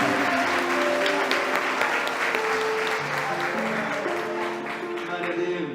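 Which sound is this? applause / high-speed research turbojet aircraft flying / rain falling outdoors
applause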